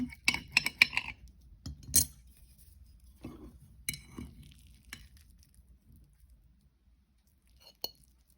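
A knife works through a sweet potato roll pizza with beans and cheese on a plate, producing quiet scattered clinks and scrapes of cutlery, clustered early, then sparse, with one last sharp clink near the end.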